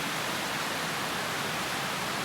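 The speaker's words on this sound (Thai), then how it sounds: "เดี๋ยวให้ทุกคนชมวิวของน้ำตกนี่เห็นไหม มันจะสูงขึ้นไปข้างบนนั่นเลยนะคะ" A waterfall in a summer forest in New York, heard as a steady, dense broadband rush of falling water that stays even and close throughout, with no voices over it.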